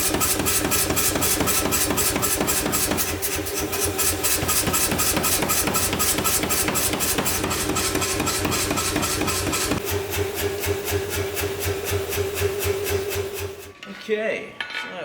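A blacksmith's power hammer runs in a rapid, steady mechanical pounding with a motor hum beneath, loud and continuous before it cuts off near the end.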